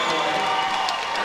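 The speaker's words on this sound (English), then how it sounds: "Big roar from the Lady Lions crowd on that one" Lady Lions fans at a 2014 TAPPS 5A girls' basketball championship game roar and cheer after a basket and foul, a dense, loud, sustained crowd din filling the whole moment.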